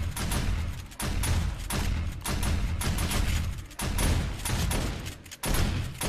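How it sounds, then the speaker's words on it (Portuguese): Many guns fire at a zombie horde attacking a base in 7 Days to Die, producing dense, continuous bursts of gunfire with rapid repeated shots and thuds. "Tem muita arma tirando, tá vendo?"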